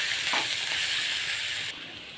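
Turmeric, cumin, ginger and chili frying in oil for a Bengali murighonto, a loud, steady, hissing sizzle that drops slightly near the end, with faint stirring.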